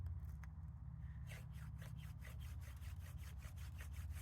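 A wooden spindle twirled between the palms in a hand drill for friction fire-making gives rapid back-and-forth rubbing and scraping strokes, quiet and close, repeating steadily over a low background rumble, with no talking.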